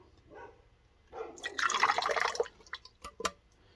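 Water pours and drips from a Mopar 360 cylinder head into a catch container, starting with light drips, swelling into a steady splashing trickle, then tapering to a few scattered drops, close by with no talk.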